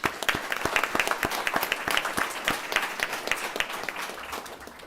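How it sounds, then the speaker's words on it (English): An audience at a school board meeting gives scattered, moderately loud applause, a short burst of individual claps that thins out within a few seconds. "Let's give all the phenomenal businesses another round of applause"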